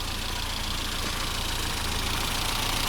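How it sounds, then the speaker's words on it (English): A 1994 Rover Mini 1300 with its 1300cc engine idles, a steady, even engine hum heard close and alone for a few seconds. "Here we have the engine running. This one is a 1300cc engine."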